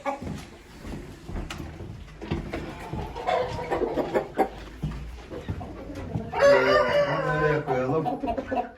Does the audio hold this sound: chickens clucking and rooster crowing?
yes